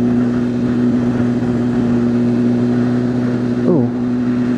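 A BMW S1000RR motorcycle engine drones steadily and loud, with a brief rise and fall in pitch near the end as the throttle is jerked.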